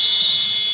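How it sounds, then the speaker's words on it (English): Basketball game-end buzzer at an NBL1 match between Reading Rockets and Leicester Warriors, a loud sustained high electronic tone filling the moment. "it was after the buzzer"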